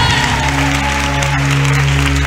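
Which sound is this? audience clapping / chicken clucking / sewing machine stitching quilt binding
audience clapping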